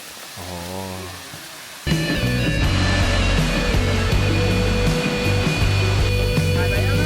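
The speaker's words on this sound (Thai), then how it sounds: "จุดนี้คือน้ำตกรสลิน" Rosalin waterfall in the jungle of Surat Thani, Thailand, reached on a trek; after a quieter low rumbling opening, a loud, steady rushing roar of falling water suddenly swells in and persists close by.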